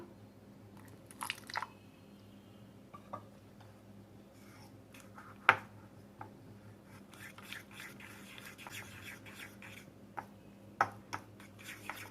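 A fork scrapes and taps against a bowl while mixing thick batter for green pea cutlets, with soft irregular clicks and quiet gaps between strokes.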